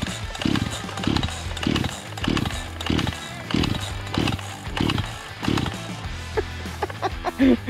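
A chainsaw engine warming up pulses in a steady, rhythmic idle, close and loud, with the beat wavering toward the end; no one speaks.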